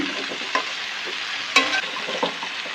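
Leafy greens tossed into a hot pan sizzle and crackle, with a sharp utensil clink and several scraping stirs over a steady frying hiss, close and without talking.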